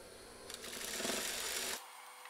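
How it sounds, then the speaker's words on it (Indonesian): Sewing machine stitching a waistband onto school trousers, a steady fast mechanical whir lasting about a second and a half before stopping abruptly, fairly quiet and alone. "Kemudian kita jahit, sesuaikan dengan garis."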